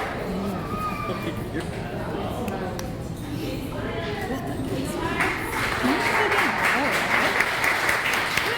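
Steady audience applause rises at a graduation ceremony for students receiving certificates of completion, dense clapping throughout with crowd murmur and a voice talking over it, growing fuller toward the end.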